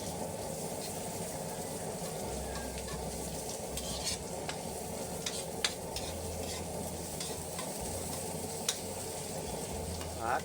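Onions fry in a pan with a dense, constant sizzle, and a few light stirring clicks scattered through. A low hum runs underneath, and no one speaks.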